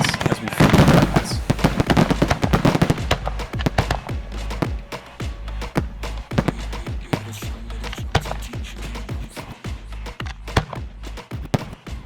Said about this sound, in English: Rapid-fire bursts of white powdery fireworks spray up as the bigger ones pop and shower down sparkles from above.